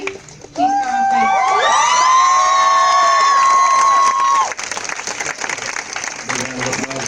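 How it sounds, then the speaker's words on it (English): Audience at a Class XI school play at The Valley School breaks into loud, sustained applause and cheering, with a long whooping cry riding over the clapping for several seconds before the crowd settles to a lower murmur. "big round of applause there"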